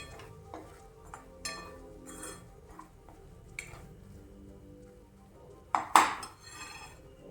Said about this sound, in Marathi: आता हे छान आपल्याला भाजून घ्यायचं आहे तेलावरती.